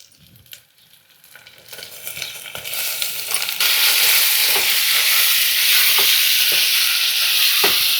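Ginger garlic paste and tomato go into hot oil for a boti biriyani, starting with quiet stirring scrapes, then a loud, steady sizzle that swells and holds close, with occasional spoon taps.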